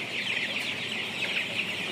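Backyard chickens clucking and chattering in a dense, steady flock murmur, moderately close and continuous, with no talking.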